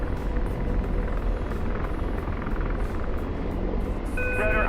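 Helicopter rotor in the DCS World flight simulator, a steady, loud, dense drone with no pauses, joined near the end by a short series of high electronic warning beeps.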